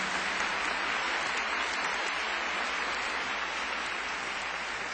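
A church congregation claps steadily after the Bible reading, a dense, even wash of many hands applauding together at a constant moderate loudness throughout.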